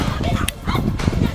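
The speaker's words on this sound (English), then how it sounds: "Scary dogs." Dogs bark at a camping spot in a quick burst of short, near barks and yips, with a voice in the background.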